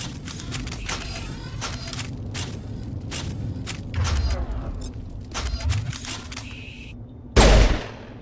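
Shotgun blasts in Mass Effect on Eden Prime: scattered sharp reports with heavier thumps near the middle and a loud boom near the end, over game ambience, with faint talk.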